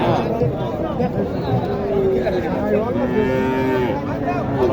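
A Sahiwal or local bull calf at a village cattle market in Naogaon gives a drawn-out moo, then a second, close and clear over steady crowd chatter and voices.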